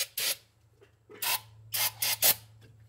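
Cleaner sprays onto a carburetor from a 1971 Dodge Demon 340 in about five short close hissing bursts with quiet gaps between them, over a low hum.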